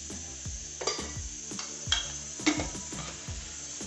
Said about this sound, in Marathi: हे सर्व चांगलं मिक्स करून घ्यायचं आहे।